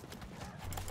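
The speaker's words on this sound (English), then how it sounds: "A horse." Horse hooves gallop in the video game Conqueror's Blade, a quick, faint clip-clop rhythm under a dense wash of battlefield noise.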